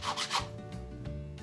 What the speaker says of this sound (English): we will take the sanding block and we'll carefully